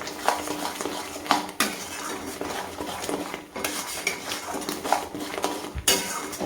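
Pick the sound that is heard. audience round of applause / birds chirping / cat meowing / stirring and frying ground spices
stirring and frying ground spices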